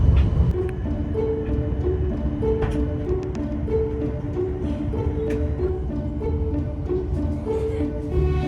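A Swiss passenger train rolls along the railway, heard from inside as a steady loud rumble with rhythmic clicking of wheels over rail joints, continuous for several seconds with no talking.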